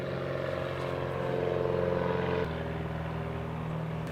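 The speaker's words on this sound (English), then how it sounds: "Oh, here comes another airplane." An airplane passes overhead outdoors as a loud, steady engine drone with a low hum that swells slightly and then shifts in pitch partway through, continuous and with no voices.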